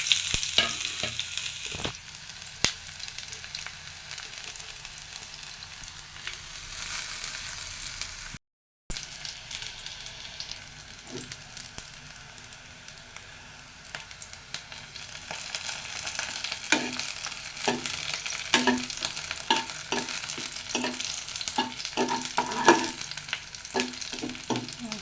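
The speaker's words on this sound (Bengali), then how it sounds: "ভাজাটা প্রায় হয়ে আসছে" Chopped onions with dried chillies sizzle steadily in a hot pan, a close, continuous frying hiss with occasional stirring scrapes and pops that grow busier toward the end.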